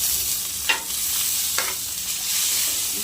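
Coriander, onion and tomato sizzle steadily in a frying pan, with two brief scraping stir strokes standing out against the continuous hiss; no talking.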